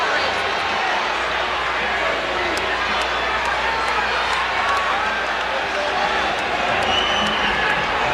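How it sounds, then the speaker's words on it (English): Basketball arena crowd at an NBA game between the Miami Heat and San Antonio Spurs, reacting loudly to a replay on the board: a steady, dense roar of voices filling the arena, with no single voice standing out. "The crowd just saw it on the replay board. That's the reaction."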